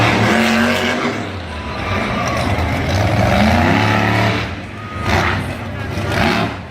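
A Monster Jam monster truck on a Bounty Hunter chassis drives a freestyle competition track, its loud engine roaring and surging with revs rising and falling across the clip while an announcer talks over it.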